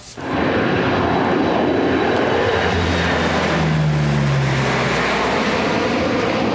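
An aircraft engine drones loud and steady over a suspicious morning forest fire near Horne Lake, where firefighting planes and helicopters work, the roar rising at once and holding with a slight shifting pitch.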